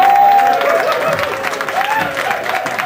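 Studio audience on a Swedish comics-themed TV show bursting into applause, a dense, loud wash of clapping that holds steady for a few seconds with some crowd noise mixed in.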